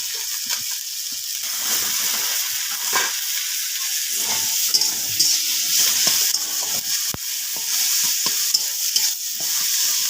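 Eggplant pieces hitting a spice mixture in a hot pan, a loud steady sizzle with scraping stirring strokes and occasional clinks running throughout, no talking.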